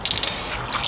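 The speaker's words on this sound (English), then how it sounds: "I'll just give these a quick swill under the tap." Water from a kitchen tap runs steadily over freshly harvested Rocket potatoes, a continuous close splashing and trickling wash with brief bursts of patter at the start and end, no talk.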